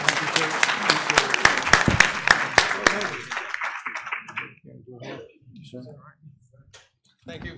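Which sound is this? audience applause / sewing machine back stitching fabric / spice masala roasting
audience applause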